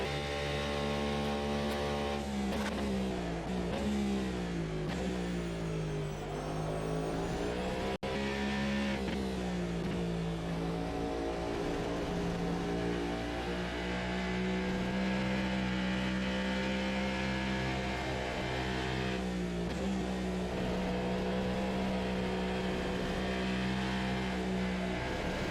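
A V8 race car at full throttle on a track straight, its engine note rising and holding at high revs with brief dips between gears, loud and continuous from the cockpit.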